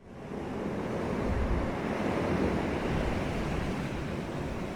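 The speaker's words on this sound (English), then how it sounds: "The sounds of waves alone are truly calming" Ocean waves wash steadily onto a seashore, a continuous broad surf roar with gentle swells in intensity and some wind noise, no voices.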